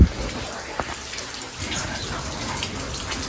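Rain falling and wetting an outdoor party decoration area, a faint steady patter and wash of water with a few soft drips, heard quietly without voices.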